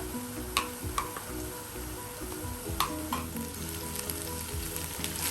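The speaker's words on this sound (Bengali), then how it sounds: "পেঁয়াজের সাথে এই আদা রসুনটাকেও আমি সুন্দর করে ভেজে নিব" Ginger and garlic frying with onions in a pan for beef tehari, a steady loud sizzle with a few sharp stirring clicks and spatula taps, no talking.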